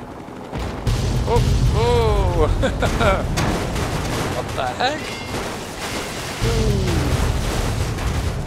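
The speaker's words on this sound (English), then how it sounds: "Oh, explosions all around." Explosions boom and crackle around a player in Fallout 3, a heavy, steady barrage like gunfire and blasts, while a man exclaims over it in short surprised bursts.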